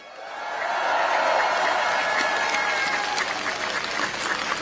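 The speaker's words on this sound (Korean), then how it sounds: "잘하라고 박수 한번 부탁드립니다" A large crowd at a political rally in Pyeongtaek breaks into applause, a dense, sustained roar of many hands clapping that swells and holds steady throughout, heard from amid the crowd.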